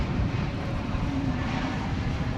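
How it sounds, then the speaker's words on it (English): An American Airlines Airbus A321neo jet at Dallas/Fort Worth Airport gives off a steady, moderately distant engine rumble with a broad whooshing hiss, continuous and unbroken. "This is American Flight 2798 from San Francisco and Airbus A321neo."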